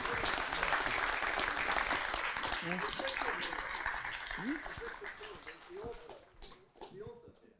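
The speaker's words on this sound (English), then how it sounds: "a round of applause," A live audience at a podcast interview event breaks into thick applause that gradually thins and fades. Voices begin talking over the dwindling claps toward the end.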